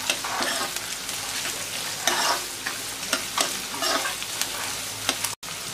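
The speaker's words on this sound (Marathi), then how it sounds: "एक चिरलेला कांदा आहे, तो थोडा परतून घेऊया।" Chopped onion fries and sizzles in a pan for kanda poha, with a steady crackle punctuated by repeated scraping stirs of a spoon, close and clear with no talking.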